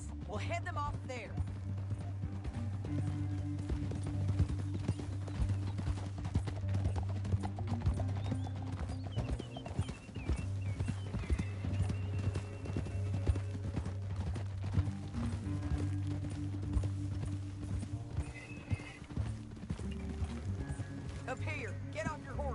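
Horses galloping in the Red Dead Redemption 2 video game, rapid clip-clop hoofbeats running steadily throughout with a brief whinny, under a music bed and occasional voices.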